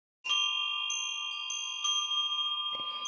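Rainbow chimes struck in a meditation session, bright sustained metallic tones ringing out alone, with a few more strikes layered in as earlier notes keep sounding.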